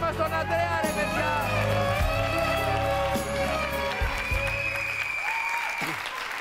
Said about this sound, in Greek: Ένα χειροκρότημα στον Αντρέα, ρε παιδιά!